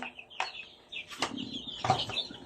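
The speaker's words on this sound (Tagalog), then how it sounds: "Sobra 150 heads ito eh, ng mga sisiw eh." Chicks in a small poultry farm of over 150 birds give bursts of high peeping and chirping, with rustling and flutter in between, close by.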